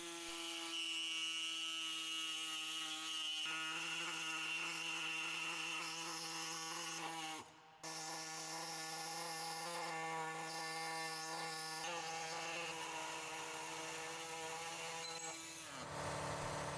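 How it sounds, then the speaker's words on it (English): Power tool cutting through the driveshaft carrier of a 2020+ Ford Explorer or Lincoln Aviator, a loud sustained whining drone with strong harmonics, briefly interrupted once midway, then continuing steadily. "Make a cut on each side of the carrier."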